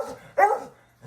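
A hound dog barks once up close, a loud single bark with a softer whimpering yip before it and a faint start of another sound at the end.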